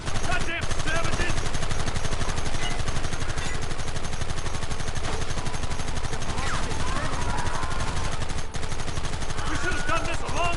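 Dense, continuous gunfire in the Western video game Red Dead Redemption, rapid overlapping shots and bursts forming a loud, sustained barrage, with shouting voices mixed into the battle.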